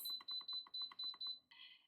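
An Instant Pot being set to high pressure for five minutes gives a quick run of about seven sharp electronic beeps, close and steady, ending in a softer tone.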